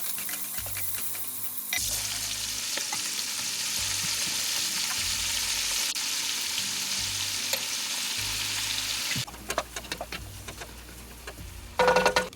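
Chopped vegetables fry in a pan alongside cooked kielbasa for a lentil soup, a loud continuous sizzle for most of the stretch, then a few scraping stirs and clatters near the end.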